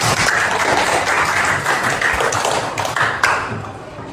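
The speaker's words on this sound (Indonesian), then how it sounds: "terima kasih tepuk tangan untuk semuanya" Students clap together in a classroom, a loud close burst of dense clapping with scattered taps and thumps that gradually thins toward the end.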